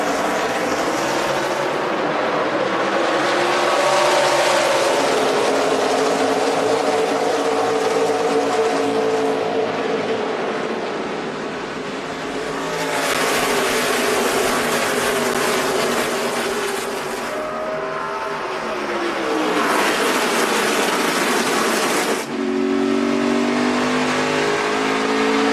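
NASCAR race cars at Richmond roar through a restart on the night track, a loud, continuous pack of engines rising and falling in pitch as they accelerate and pass, with no one speaking.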